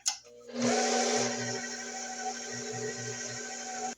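An electric stand mixer running on its lowest speed, blending caramel cream cheese pound cake batter, a steady close whirring hum that starts abruptly and stays even, with faint rhythmic thumps beneath.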